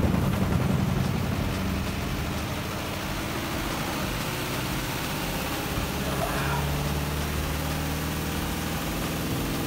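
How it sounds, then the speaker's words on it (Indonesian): A repaired washing machine's spin dryer drum turns with a steady, loud mechanical hum and rumble that holds evenly for about ten seconds. "Ini mesin pengiringnya berhasil kita perbaiki dan bisa berputar."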